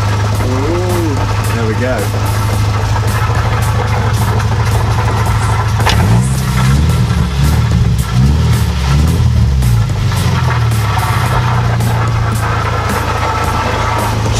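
Subaru drift car with a welded differential, its engine idling with a steady low rumble, a rev blip rising midway before it settles back to idle, and people talking nearby.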